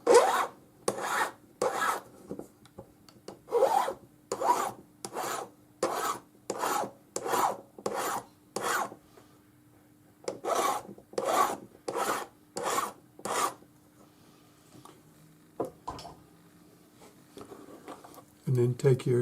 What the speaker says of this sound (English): File the end flat.